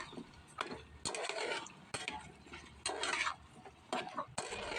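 A spoon scrapes and stirs sweet potato with sautéed onion in a cooking pan, in rhythmic strokes of clinking and scraping with short pauses between them, close up and clear, with no talking.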